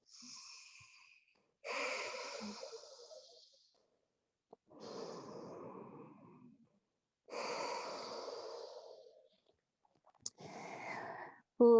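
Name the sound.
breathing during a yoga forward fold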